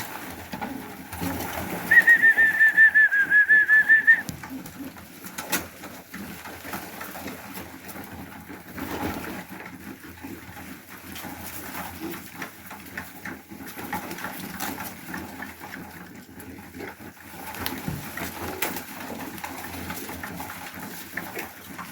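Pigeons coo during an evening feeding, a clear burst of cooing near the start followed by softer scattered calls and rustling over a low engine-like hum.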